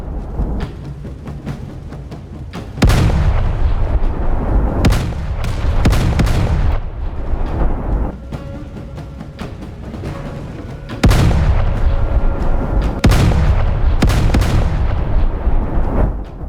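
HMS Warspite warship in Roblox Naval 1945 fires AP rounds: a series of heavy, close, booming cannon salvos, each followed by a rumbling decay, repeating every few seconds.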